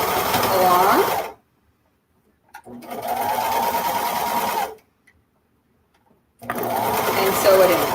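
A sewing machine stitches elastic into a swimsuit in three loud, steady runs of motor whir, with short silent pauses between them.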